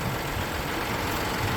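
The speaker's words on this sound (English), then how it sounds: "Tractor's fixing to rev up." A tractor engine idling with a steady, heavy low rumble that stays constant and fairly loud throughout, with no revving and no voices.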